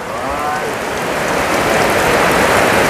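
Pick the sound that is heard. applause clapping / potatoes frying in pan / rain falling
rain falling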